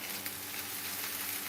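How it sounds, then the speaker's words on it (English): Onion and garlic frying together in a pan as a base for githeri, a local dish, giving a steady, dense sizzle that stays even and close throughout with no talking. "onion and garlic frying together, because I'm going to fry some githeri, local food"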